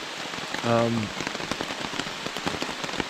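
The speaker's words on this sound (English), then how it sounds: "It's been raining all morning" Rain patters steadily on a nearby surface on the Appalachian Trail, individual drops ticking irregularly, with a brief low voiced sound early on.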